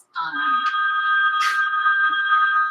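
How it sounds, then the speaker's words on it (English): A mobile phone rings with a steady electronic tone that sounds continuously and loudly for nearly three seconds in an indoor room. "It's my phone, but I'm not going to take the call."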